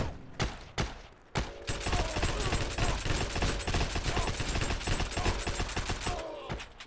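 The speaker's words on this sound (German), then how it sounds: "Das klang gerade wie ein Gewitter, aber ich glaube, das war ja, Artillerieschüsse, oder? Dieses Grummeln im Hintergrund." Artillery and gunfire in a World War II shooter game, Heroes and Generals, a dense continuous barrage of cracks and rumbling booms after a few separate opening shots, loud and close with no talk over it.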